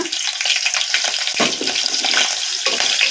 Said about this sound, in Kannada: ಹಾಗೆ ಹಾಕಿಬಿಟ್ರೆ ಎಣ್ಣೆಗೆ ಸಿಡಿದು ಬಿಡ್ತೈತಿ ಈಗ ಹಸಿಮೆಣಸಿನ್ಕಾಯಿ ಹಾಕೋಣ